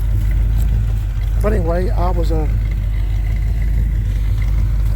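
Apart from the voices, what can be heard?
1978 Chevy C10 truck engine idling after warm-up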